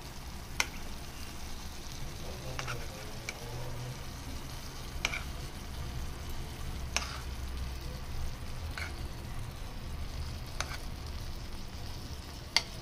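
Tomatoes fry in a pan on a gas stove with a steady, even sizzle and a few faint clinks over the crackle, and no one speaks.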